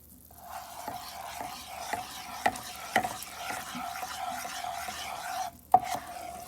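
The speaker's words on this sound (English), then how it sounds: "Keep stirring it. Take it from all the sides." Kada prasad mixture stirred in a pan as it cooks, a steady low sizzle broken by rhythmic spatula scrapes roughly every half second, close and fairly quiet, with no speech.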